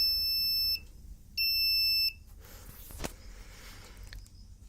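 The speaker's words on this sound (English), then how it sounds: "switch number 6 will make the buzzers sound or beep" Electronic buzzer on a homemade IoT switch board giving two steady, loud high-pitched beeps of under a second each, separated by a short gap, then quiet room noise with faint handling sounds.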